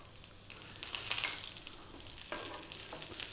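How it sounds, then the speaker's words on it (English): Cumin seeds sizzle and crackle in hot sunflower oil in a pan while spiced tempering is made for raita, a steady close frying hiss with brief louder spits, no voices. "We're going to drop in those small amount of the cumin seeds."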